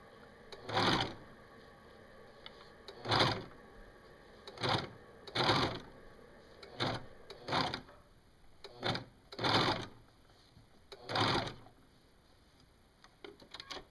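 A serger-style sewing machine with a cutting knife stitches and trims curved fabric in about nine short bursts, each starting and stopping abruptly, close and fairly loud, with quiet gaps between.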